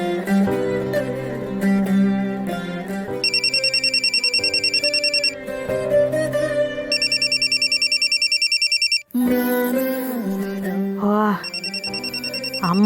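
A mobile phone ringtone sounds for an incoming call in repeated bright electronic bursts, each lasting a couple of seconds and separated by pauses, over music in a Kannada TV serial scene.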